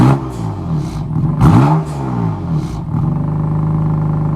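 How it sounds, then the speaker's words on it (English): A BMW M4 with its exhaust valves open revs loudly and close by, a few sharp blips rising and falling before settling into a deep, steady rumbling idle. "if you have the valves open, it makes it sound so much more aggressive and so much better than it does with it closed"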